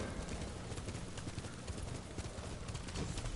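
Horse hooves clip-clop steadily in Ghost of Tsushima, a continuous galloping patter mixed with dense game ambience, loud and close throughout.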